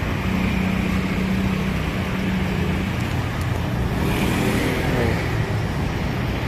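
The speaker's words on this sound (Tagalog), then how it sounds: "Ang daming sasakyan." Many vehicles pass along a road in a continuous, fairly loud roar of engines and tire noise with no clear breaks and no talk.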